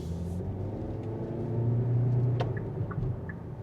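A 2026 Kia Seltos with a 2-liter naturally aspirated engine and CVT accelerating from a stop, a steady low engine rumble heard from inside the cabin that swells slightly midway, no talking.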